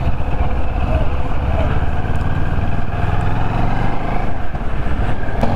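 A Moto Morini Seiemmezzo STR motorcycle on a test drive gives a steady, loud engine drone mixed with road and wind rush, unbroken throughout.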